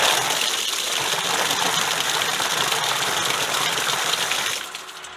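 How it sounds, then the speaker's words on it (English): A swimming pool pump runs with a steady rushing, gushing wash of water and motor noise close by, loud and constant before dropping off abruptly near the end. "Filter's bled. Pump's running."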